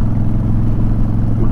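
A steady, close Honda Fury motorcycle engine drone with a low rumbling hum, holding an even pitch throughout without clear revving.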